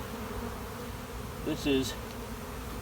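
Honey bees hum steadily around an open spring hive with two deep brood boxes full of bees, a close continuous drone with a brief louder swell and a few spoken words.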